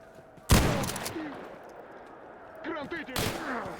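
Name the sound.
KS-23 shotgun firing in a video game (S.T.A.L.K.E.R.-style Zone)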